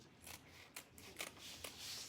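Faint, close snips of scissors cutting, several quick crisp strokes in an irregular rhythm against a quiet background.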